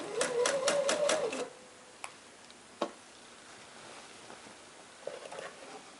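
A sewing machine stitching a quilt's mitered border runs in a quick, close rhythmic clatter for about a second and a half. After it stops, a few faint clicks and handling noises follow.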